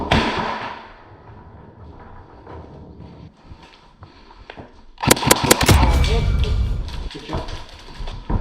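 Airsoft gunfire inside an abandoned prison during a squad sweep-and-clear game: a sudden burst of rapid, sharp shots that echo off hard walls, following muffled voices on team radio.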